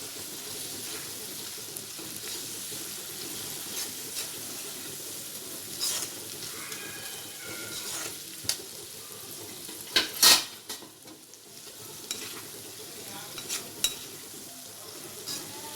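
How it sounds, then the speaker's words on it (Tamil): Mango thokku pickle sautéing in a pan, a soft continuous sizzle with intermittent utensil scrapes and metallic clinks against the pan, nearby with no talking. "அப்படியே திறந்து வதக்கிட்டே இருக்கணும்."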